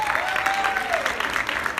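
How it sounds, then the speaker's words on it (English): An audience at a movie premiere claps in a steady wash of applause, with a voice briefly rising above the crowd. "Clap for yourselves for coming out."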